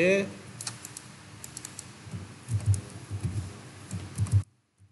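Keys on a computer keyboard are pressed in Ctrl+C and Ctrl+V copy-and-paste shortcuts, producing soft, irregular clicks that grow denser toward the end under a quiet voice.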